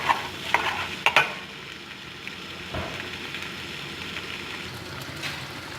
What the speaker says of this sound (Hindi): भिंडी को इतना फ्राई करना है तेल में कि इसकी लेस्ट जो है भिंडी की ख़त्म हो जाए